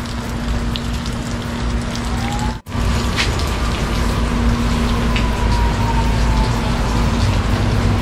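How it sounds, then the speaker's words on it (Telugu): A heavy downpour falls outside a house beside a huge tree, a constant close hiss of raindrops on surfaces, broken only by a split-second dropout midway. "ఫుల్గా వర్షం పడుతుంది"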